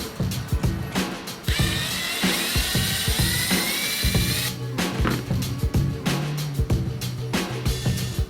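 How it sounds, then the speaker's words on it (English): A power drill bores a hole into the bottom of a wooden dowel for a simple DIY Nerf target, giving a sustained whirring, grinding run with brief stops and restarts, close and fairly loud. "we're going to drill a corresponding hole into the bottom of the dowel"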